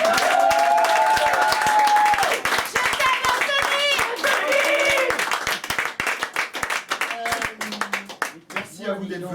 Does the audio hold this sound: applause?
yes